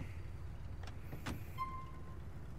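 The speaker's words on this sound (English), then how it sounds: "Get in the car, JJ." Getting into a police car in GTA IV: a couple of brief thuds and a door-like clunk, then a short electronic tone, over a steady low engine idle; no talking.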